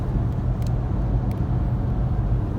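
Toyota C-HR 1.8 hybrid cruising at 100 km/h in eco mode, heard from inside as a steady low road and engine rumble with tyre noise, constant and unbroken throughout.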